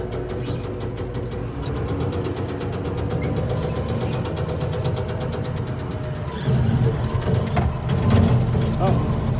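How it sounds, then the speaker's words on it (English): An ageing lawn mower engine runs continuously while cutting grass in a yard, a rough, rattling drone nearby that grows louder and harsher partway through as it bites into the lawn. "Let's just mow a little around here to make sure it's not like gonna totally collapse."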